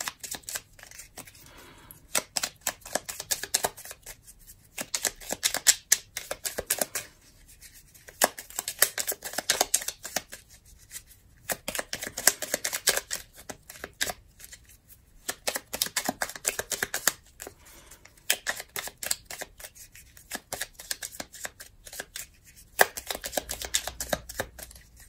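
Tarot cards being cut and shuffled by hand, producing repeated crisp papery riffles and slaps in bursts separated by short pauses, fairly close and moderately loud with no talking.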